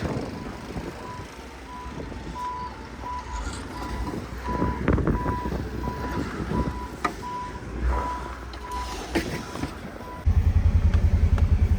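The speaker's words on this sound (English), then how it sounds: "to get Clayton acclimated to running the little loader" A small loader working in deep snow emits a steady series of evenly spaced reversing beeps over its rumbling engine, and the engine noise grows louder and closer at the end.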